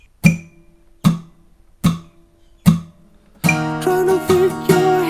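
Four separate ringing acoustic guitar strums, evenly spaced, give way to fast continuous strumming of the bridge progression of a song at full speed, close and alone with no voices.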